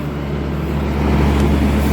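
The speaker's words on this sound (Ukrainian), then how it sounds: "Їде машинка, зараз буде вивантажувати." A grain truck arrives at a combine during the winter wheat harvest in a field, a loud, close, steady low engine rumble and rolling noise with no talk over it.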